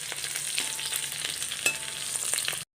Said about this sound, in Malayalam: ഇതൊക്കെ നന്നായിട്ട് മൂത്ത് ഇഞ്ചിയുടെയും വെളുത്തുള്ളിയുടെയും ചുവയൊക്കെ ഒന്ന് മാറി കിട്ടണം